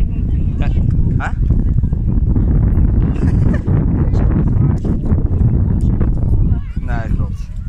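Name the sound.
wind blowing on the beach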